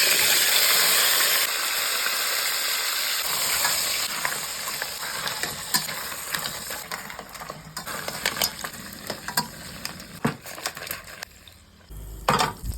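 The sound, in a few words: crabs frying in oil in a kadai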